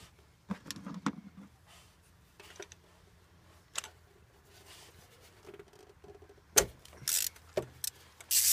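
A spark plug socket on an extension bar is fitted and twisted onto a car's spark plug, producing scattered metallic clicks, scrapes and knocks at close range, with quieter handling in between.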